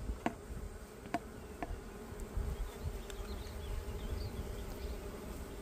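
Honeybees buzz around an open beehive during an inspection, a faint, continuous insect drone with a few brief closer passes and light handling clicks.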